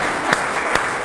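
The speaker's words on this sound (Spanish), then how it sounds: "¿Cuántos le dan un aplauso al Señor por eso?" A church congregation applauds the Lord, a dense, steady wash of clapping from many hands that holds at an even level throughout.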